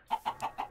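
Chicken clucking in Minecraft, four short clucks in a steady rhythm, close and moderately loud with nothing else around them.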